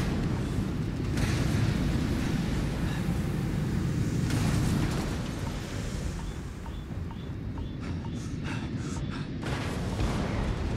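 Explosions rumble through a space battle in the video game Starfield, a dense, continuous roar of booms and blasts with dips and swells in intensity, loud and close with no talk.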